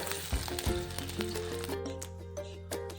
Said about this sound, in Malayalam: ആദ്യം തന്നെ ചൂടായ വെളിച്ചെണ്ണയിലേക്ക് കട്ട് ചെയ്ത് വെച്ച ഇഞ്ചി ചേർക്കാം